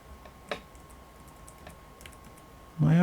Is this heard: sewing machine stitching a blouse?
no